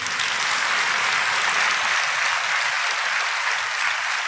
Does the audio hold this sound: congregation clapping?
yes